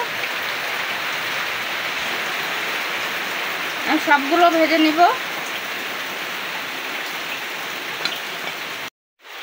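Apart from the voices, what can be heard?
heavy rain falling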